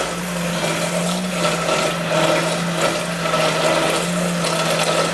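A stick blender on its lower setting runs continuously under the surface of oil and sodium hydroxide for soap, giving a steady close motor whir with a mild churning texture.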